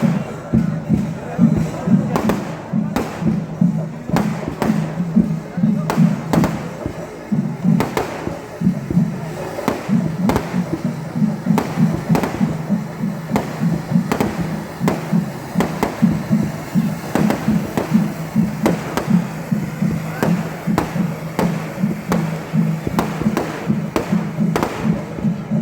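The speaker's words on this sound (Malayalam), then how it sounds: "സ്കൈ ഷോട്ടുകൾ കണ്ട് രസിക്കുന്നതിനിടയിലൂടെ ഇവിടെ പൂത്തിരിയും കത്തിക്കുന്നുണ്ട്" Sky shot fireworks and sparklers at a temple festival in Kozhikode, with repeated loud booming thumps at a steady pace over crowd noise and people talking throughout.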